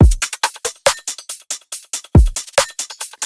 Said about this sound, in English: This is a basic drum loop that we've got at 140.